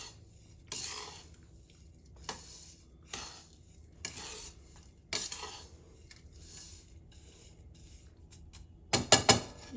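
Spoon stirring and scraping a panjiri mixture made with ghee and jaggery or sugar in a metal pan, steady repeated scrapes with a few clinks, close and moderately loud, ending in a burst of sharper metallic clatter; no talking.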